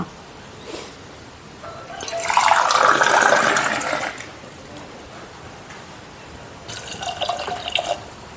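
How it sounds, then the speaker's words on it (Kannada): Water splashes and pours in two bursts, a longer one early and a shorter one near the end, over a quiet background hiss. "ಇನ್ನೊಂದು ಸ್ವಲ್ಪ ನೀರು ಹಾಕುವ"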